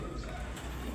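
A five-year-old racing pigeon kept as a breeder coos softly in one brief, muffled burst against a dense wash of background noise.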